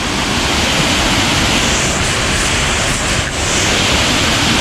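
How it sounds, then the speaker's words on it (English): Roaring horseshoe-shaped waterfall, a steady, loud broadband rush of falling water close by, constant throughout with no voices. "this is like a horseshoe type waterfall with the shape of it"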